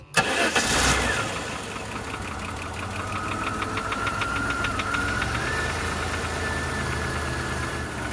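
The Mitsubishi 3-liter V6 of a 1991 Chrysler TC cranks and catches with a loud burst, then settles into a steady idle with a faint rhythmic ticking and a rising whine, heard close with no voices.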